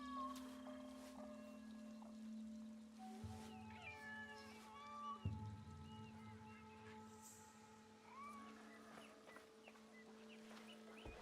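A cat meows several times in the Assassin's Creed game, high wavering calls over a steady hum of game ambience and a faint bird chirp. A low thud sounds partway through, and there is no clear talk.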